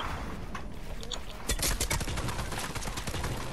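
Rapid burst of gunfire in a video game, a close crackling volley of shots after a short quieter stretch, continuing to the end.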